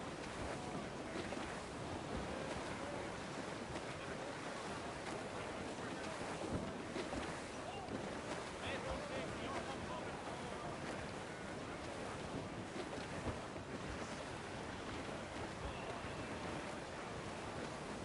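A sailing ship at sea in the Assassin's Creed IV game, with a continuous roar of wind and surf washing around the hull, steady and full without any pause.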